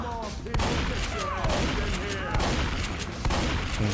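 Gunfire in the video game Left 4 Dead 2 on the Cold Stream campaign, dense rapid bursts rattling continuously at moderate level over game ambience.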